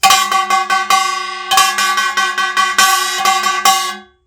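Korean kkwaenggwari small gong struck in a geurang pattern for samdo samulnori deotdeokgungi (jajinmori) rhythm, bright metallic clangs in quick clustered groups with a short pause, ringing close and loud, no voices.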